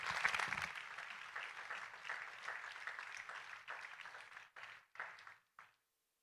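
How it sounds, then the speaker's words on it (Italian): Audience applause at an evening award event in Tortolì, welcoming a theatre performance: a broad, steady wash of clapping from a crowd that holds for several seconds, then thins into a few scattered final bursts and stops. "Quindi li accogliamo con un applauso e li ascoltiamo con attenzione."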